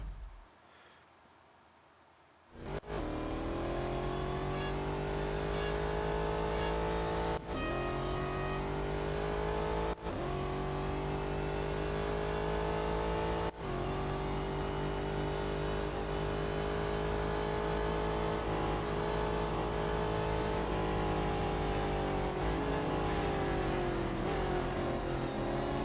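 Racing cars in the Real Racing 3 mobile game overtake opponents, a steady loud engine drone with rising revs and gear-change breaks, continuous after a quiet opening few seconds, with no talking.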